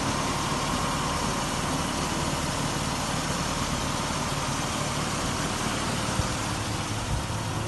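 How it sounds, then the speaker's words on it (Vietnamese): A Mitsubishi Jolie's engine idles smoothly and evenly, a steady close-up rumble with a constant hum that runs unbroken throughout. "Máy cũng rất là ngon, chạy rất là êm."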